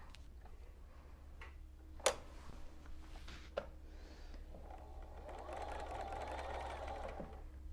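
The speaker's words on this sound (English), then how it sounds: "let's go to our machine, and we're going to start sewing" A sewing machine stitches a quilted table topper, starting after a few small clicks and taps and then running in a steady, fairly quiet hum for the last few seconds.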